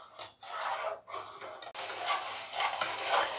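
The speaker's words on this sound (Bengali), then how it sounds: "একভাবে নেড়ে নেড়ে এই অবস্থায় এলে যখন ঘন শুকনো হয়ে আসবে" Sweet gujiya filling is stirred in a pan until thick and dry. Close, repeated scraping strokes come in short bursts, then turn into a continuous stir.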